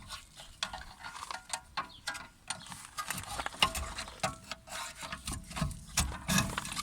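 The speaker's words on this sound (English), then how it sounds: "we can just pry off the caliper" Metal scraping and clunking as a brake caliper is pried off a 2007 VW Passat, a close series of irregular knocks and grinding scrapes over a faint background hiss.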